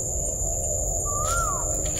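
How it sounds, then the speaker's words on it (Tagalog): A single bird call rises and falls over steady background noise, fairly faint and brief. "Nga ibon ni Isul"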